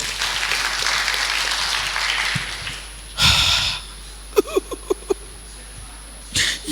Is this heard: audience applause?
yes